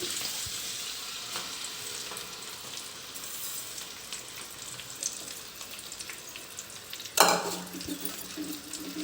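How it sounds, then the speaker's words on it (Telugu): Gongura leaves wilting in hot oil in a pan for gongura pachadi, a steady soft sizzle running throughout, with a brief louder clatter of stirring near the end. "కొంచెం ఆయిల్ యాడ్ చేసుకొని గోంగూరని వాడ్చుకోవాలి"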